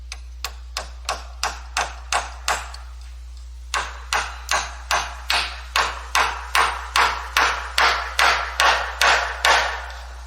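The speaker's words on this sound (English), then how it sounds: "I was about to nail this one into place" Nails are hammered into a wooden roof rafter during roof framing: a steady series of sharp, ringing hammer blows, close and loud, with one brief pause before the strikes resume and speed up slightly.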